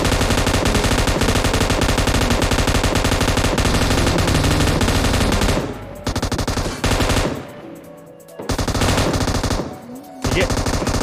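Loud, rapid automatic gunfire in PUBG Mobile rattles almost continuously, broken by a few brief pauses between bursts.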